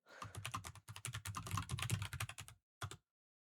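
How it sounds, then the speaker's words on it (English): Fast, steady typing on a new computer keyboard clatters close up for about two and a half seconds, then stops. A couple of final keystrokes follow after a short gap, with no voices. "Doesn't that sound so nice, like on a new keyboard?"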